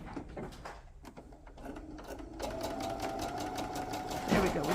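A sewing machine set to a 2.5 stitch length stitches slinky, silky fabric for a Santa stocking. A quick burst of mechanical clatter starts and steadily builds into a fast, even, close-up chatter of the needle and feed.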